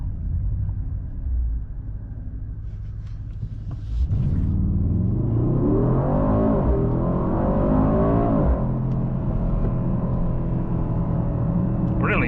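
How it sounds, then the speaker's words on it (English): A 2025 Mercedes-AMG GLE 63 S Coupe V8 idles with a low rumble, then roars into hard acceleration, its engine note climbing loudly for several seconds before settling back into a steady cruising drone. "Okay, so let's do one more pull and acceleration."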